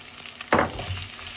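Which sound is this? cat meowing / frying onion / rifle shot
frying onion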